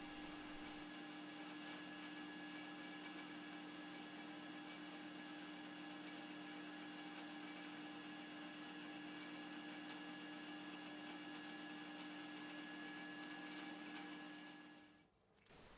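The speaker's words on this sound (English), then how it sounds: "just using a couple of different grits of sandpaper and then finally finishing it off with some steel wool" A metal lathe spins with a steady, faint mechanical whine while a part is polished with sandpaper and steel wool, running evenly until it winds down at the end.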